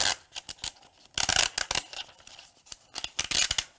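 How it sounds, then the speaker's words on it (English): An Infusible Ink transfer sheet is peeled off a fabric tote bag in crisp, crackly bursts of tearing and rustling, close up and loud, coming in uneven clusters separated by short pauses. "just peeling infusible ink all day"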